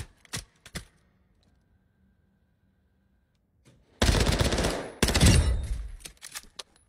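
Video game gunfire: a couple of isolated shots, then long rapid automatic bursts, loud and close, with a quiet gap between.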